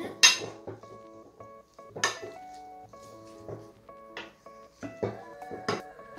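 A utensil clatters and knocks against a bowl while ingredients are mixed for a simple appetizer, with irregular ringing clinks and scrapes spaced a second or so apart.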